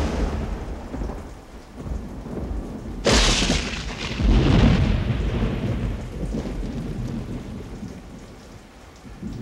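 A heavy thunderstorm with steady rain pouring down, broken by a sudden loud thunder crack a third of the way in and a long rolling rumble that fades back into the hiss of rain.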